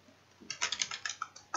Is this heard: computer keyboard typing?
yes